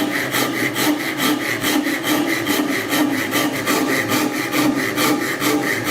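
A hand saw cutting wood against a saw guide, rasping in a fast, even back-and-forth rhythm of strokes, close, loud and continuous with no talking.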